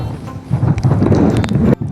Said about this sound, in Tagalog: Ayan, ang lakas ng hangin